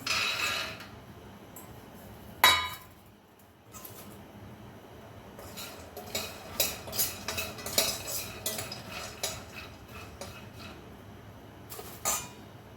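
Peanuts dry roasting in a kadai rattle and clatter as they are stirred, a dense run of small metallic scrapes and taps, with one sharp clank near the start and another near the end.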